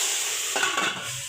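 Hot oil with garlic for a dal tempering sizzles loudly and steadily in a frying pan, with a brief stirring scrape partway through.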